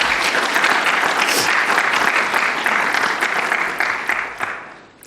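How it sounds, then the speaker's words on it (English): A forum audience at a public health ethics event breaks into a sustained round of applause, dense and fairly loud from start, easing off and fading toward the end with no talk over it. "Can we give them a round of applause,"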